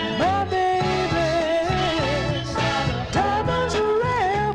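A 1967 soul 45 record plays steadily with a sung vocal melody over a full band backing, loud and continuous throughout.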